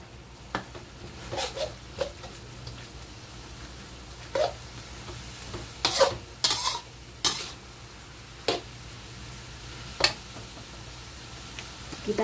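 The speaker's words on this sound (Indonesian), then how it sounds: "Dan kita aduk ya, ayamnya sama wortel juga" Chicken, carrots and mushrooms stirred in a pan for Taiwanese-style rice vermicelli, with a steady soft sizzle broken by irregular scraping and clinking of a utensil against the pan.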